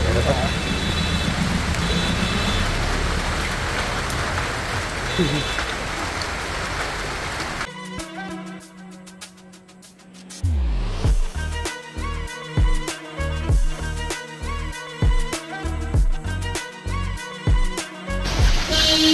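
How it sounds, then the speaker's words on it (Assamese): Steady rain hisses throughout the first part near the Maa Bagalamukhi temple in Assam, then gives way to rhythmic music with a thumping beat; voices appear faintly. "বৰষুণ বহুত দি আছে"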